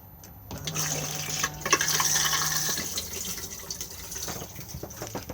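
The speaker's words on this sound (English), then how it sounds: "just slide the grey lever across and then blue button to flush" A Thetford cassette toilet in an Elddis Xplore 304 caravan flushes, water rushing loudly and close for a few seconds before tapering into trickles and gurgles, no talking.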